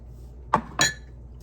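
Two quick, faint clinks of kitchen ramekins knocking together as they are handled, a short pause between them, in a quiet kitchen.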